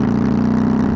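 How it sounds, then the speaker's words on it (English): A synthesized motorbike engine built in Krotos Igniter, a steady mid-pitched idle-like rumble with regular pulsing firing, loud and continuous for a brief moment with no voices. "motorbikes"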